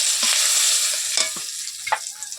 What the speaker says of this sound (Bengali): ফোড়নে দেবো গোটা গরম মশলা লং এলাচ দারচিনি আর এক টুকরো জৈত্রী